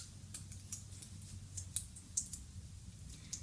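Small buttons clack together in a quick, irregular run of sharp, light clicks, close and fairly quiet, with no talking.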